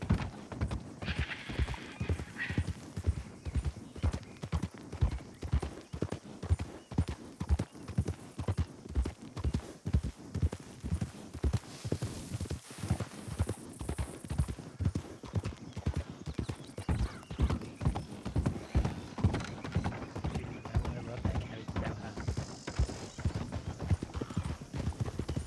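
Horse hooves clip-clop in a steady, even rhythm throughout, close and clear, with a brief whinny partway through and no talking.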